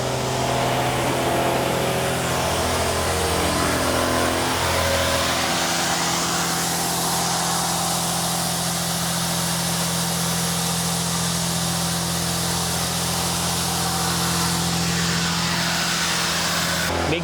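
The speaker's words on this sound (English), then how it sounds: "It's for big end honing and small end honing. Sonnen machine." A Sonnen honing machine finishes the big and small ends of supercar connecting rods in a factory, giving a steady, loud whirring hiss with a mechanical hum that shifts partway through and carries on alone.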